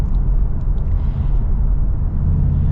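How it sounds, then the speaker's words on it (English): A 2024 Mercedes G63's V8 engine gives a deep, steady rumble from inside the cabin, loud and continuous for a few seconds with no talking. "You gotta love the sound of that V8"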